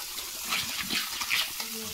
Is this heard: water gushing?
yes